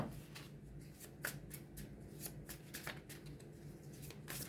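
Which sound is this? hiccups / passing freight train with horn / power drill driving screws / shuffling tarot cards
shuffling tarot cards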